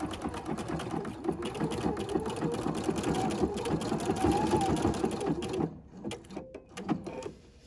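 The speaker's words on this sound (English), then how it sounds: "this stitch is going to go back and forth and sew it together with a nice strong" A sewing machine runs a back-and-forth stitch, a steady fast mechanical whir and needle clatter that stops briefly near the end and then resumes, heard alone with no talking.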